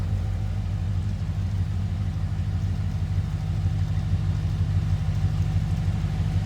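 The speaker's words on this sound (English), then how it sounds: "Nice little throaty exhaust note." A 2004 Pontiac GTO idles steadily with a deep, throaty rumble through its complete exhaust, catalytic converter intact. The low, even note is close and continuous, with no speech over it.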